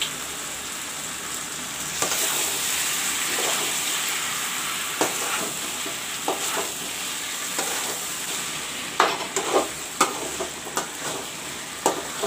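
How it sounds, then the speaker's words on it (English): Fried brinjal and potato sizzling in browned masala in a pan, a steady hissing fry with occasional stirring scrapes and clatters growing more frequent toward the end, close and alone with no talking. "Now I will put in the fried brinjal and potato."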